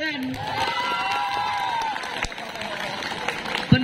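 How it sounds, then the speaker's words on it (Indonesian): Student supporters of a school student-council candidate clap and cheer together, a dense, loud crowd wash of claps, shouts and excited voices, with one long raised cheer carrying over the noise. "coba tepuk tangan"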